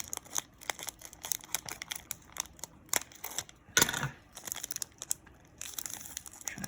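Crinkling and snipping of plastic trading card pack packaging with scissors, a string of sharp irregular cuts and rustles close up, with no talking.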